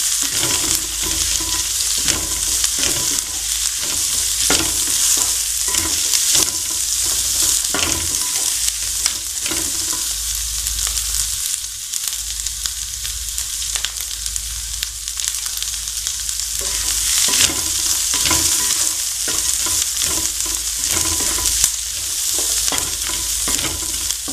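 Potato with capsicum and potato with onion sauté in a hot pan, giving a steady loud sizzle throughout with repeated scraping strokes of a spatula stirring the pieces.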